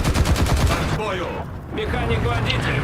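Tank machine guns in War Thunder, a 12.7mm DShK anti-aircraft gun and a 7.62 DT coaxial, fire a rapid, loud rattling burst for about a second, then someone talks over quieter background noise.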